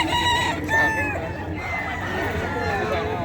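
A rooster crows over constant clucking from many chickens at a poultry and pet market, with a busy murmur of voices filling the crowded, noisy space.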